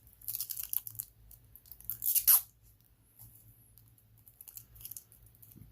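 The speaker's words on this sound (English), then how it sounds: "We got plastic on the inside of the bracelets. Case back plastic off." Protective plastic being peeled off a Hamilton Khaki King watch, heard as close, crisp crinkling and tearing rustles in short bursts, one louder sharp rip midway, then quieter handling.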